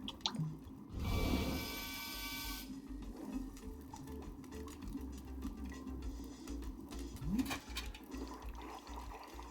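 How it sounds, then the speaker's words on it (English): In the Wanderstop video game, a valve is kicked and boiling water gushes toward the infuser: a short thump, then about two seconds of rushing flow, followed by quieter dripping and squishing sounds. "kick the valve and it will transfer our boiling water over to the infuser"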